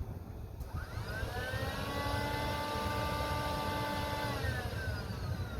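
Secondary air injection pump on a 2003 Cadillac DeVille, its protective cover gone, switching on with a steady, even whine that holds at constant pitch, fairly close and alone with no talk.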